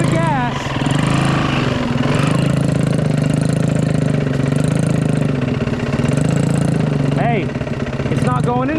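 A dirt bike engine runs close by with a kid on board, chugging and buzzing steadily with a few revving surges, while people talk over it and give instructions.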